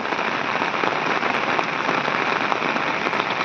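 Steady rain pours down on a farm in the Konkan region, a dense continuous hiss of drops striking surfaces, close and unbroken throughout with no voices.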